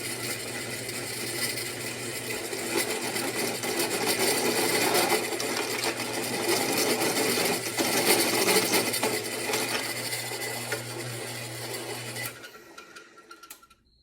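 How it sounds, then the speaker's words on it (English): A drill press whirs steadily with a constant motor hum and grinding metallic chatter as it bores holes through metal gate parts, then winds down and stops. "Now we're going to set up the drill press to"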